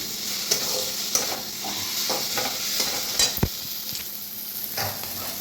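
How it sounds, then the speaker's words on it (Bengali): A spice paste of ground garlic and chili fries in a pan while being stirred, with a steady sizzle broken by scraping strokes and sharp clicks of the spoon, close and fairly loud. "দেখো মশলাটা ভালো করে কষিয়ে নিয়েছি।"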